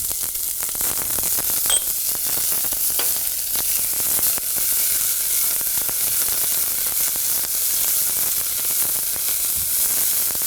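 Onions hit caramelizing carrots in a pan for espagnole sauce, producing a loud, even hissing sizzle that carries on throughout with occasional crackles and stirring scrapes.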